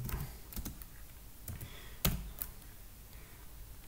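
Quiet keyboard typing, a few separate key clicks and taps spread across a few seconds with one slightly louder strike near the middle.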